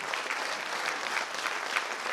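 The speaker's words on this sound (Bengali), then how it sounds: "আমরা করতালির মাধ্যমে সবাই একযোগে অভিবাদন জানাই" Steady, dense audience applause fills a hall at a company's 24th anniversary celebration, many hands clapping together continuously at moderate loudness with no voices over it.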